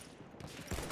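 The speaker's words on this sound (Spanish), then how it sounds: "Me están disparando desde tres sitios diferentes." Rapid gunfire in a multiplayer shooting video game, a dense burst of shots from several directions, loud and continuous with a heavier blast near the end.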